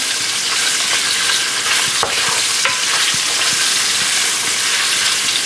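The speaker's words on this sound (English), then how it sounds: "Gotta just stir that around." Oxtail fat frying in a pot while being stirred, a steady loud sizzle and crackle close up with occasional scrape of the spoon against the pot.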